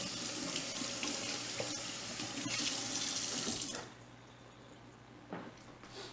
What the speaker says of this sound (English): So I am going to rinse this off with cold water.